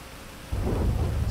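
Rain starts abruptly partway through: a sudden, dense rush of heavy rainfall with a deep rumbling, roaring low end that stays loud and steady after a quieter lead-in.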